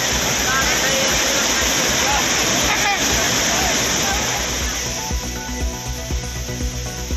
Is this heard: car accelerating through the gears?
no